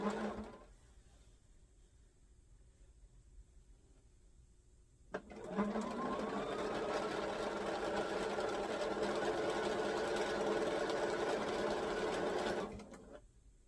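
A sewing machine runs steadily for about eight seconds, stitching quilt blanket strips together, then stops; a quieter hum sits before and after the run.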